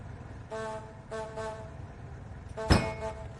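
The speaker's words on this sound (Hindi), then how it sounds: "मैंने कहा था इनसे कि बार बार हॉर्न मत बजाना।" A car horn toots twice in quick short blasts, followed by a sharp knock, outdoors at moderate distance.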